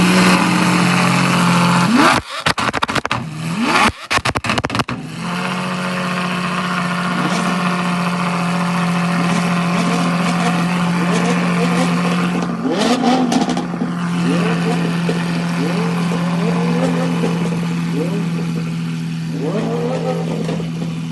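A Mercedes-Benz AMG GT S supercar idles loudly and steadily at the Raymond Autofest car show. A few sharp revs and blips come early on, then a smooth, constant rumble close by.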